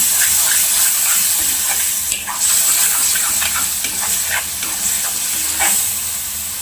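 Bheja (brain) masala with spices and a splash of water sizzles and hisses steadily in a pan while it is stirred, with soft scraping strokes scattered through the steady frying noise.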